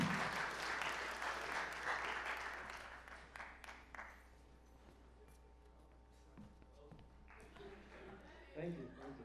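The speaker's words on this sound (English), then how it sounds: "So give him a round of applause." Audience applause at a comedy show in the Haymarket Theatre, a lively burst of clapping that dies away after about four seconds, leaving faint room noise, scattered claps and some speech.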